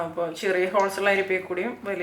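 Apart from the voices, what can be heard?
No everyday noises stand out.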